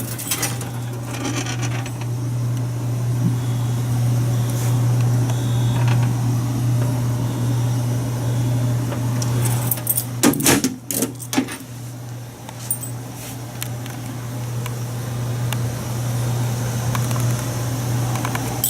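A Simplex dual action T-bar fire alarm pull station is opened by hand, with metallic clicks, rattles and a small clatter of parts over a steady low hum, loudest in a short burst near the middle.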